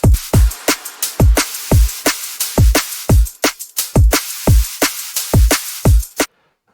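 A liquid drum and bass groove gets an extra drum loop layered in, giving loud, driving kicks and snappy snares over a bright wash of hats in a fast breakbeat pattern. It stops abruptly just before the end, and no one speaks.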